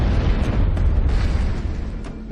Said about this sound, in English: that explosion has left this body fully intact